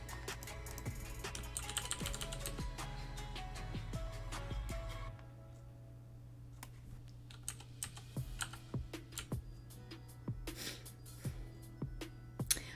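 A computer keyboard clatters with steady, close keystrokes in quick irregular runs over a low hum, which drops partway through while the sparse clicks go on alone.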